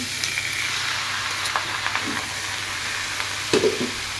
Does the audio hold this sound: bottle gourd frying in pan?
yes